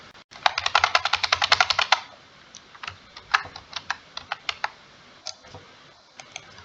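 Java code typed on a computer keyboard: a fast, even burst of close keystrokes, then slower, scattered clicks with short pauses between them, alone in a quiet room.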